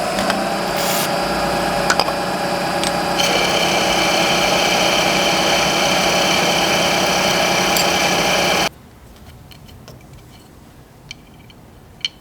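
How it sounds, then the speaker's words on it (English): A cheap boring head cuts aluminum on a running machine, a loud steady whine with tonal ringing that holds for several seconds and then stops abruptly, leaving quieter room noise with a couple of small clicks. "It's certainly effective in cutting aluminum, but just a little tidbit if you're using one of these cheap boring heads."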